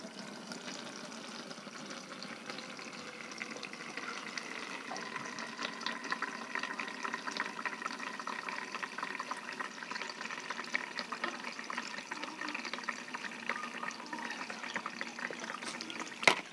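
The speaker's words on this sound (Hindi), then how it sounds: "थोड़ा पानी से हम इसको वॉश कर देते हैं, ताकि इसमें जो गोल्ड का सॉल्यूशन रह गया हो" Water is poured over filter paper held between two meshes to rinse out leftover gold chloride solution while recovering gold from cellphone and computer circuit boards, a steady close splashing trickle with no talk.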